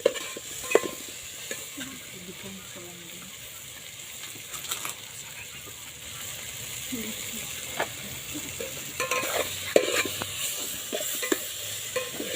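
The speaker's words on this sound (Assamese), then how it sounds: "ফ্ৰেণ্ডছ বিলাহী এতিয়া দিয়া হৈছে" Chopped tomatoes frying with chicken skin in a pan, a soft steady sizzle with intermittent scraping and clinking of a stirring spoon against the pan, close and moderately quiet, no talking.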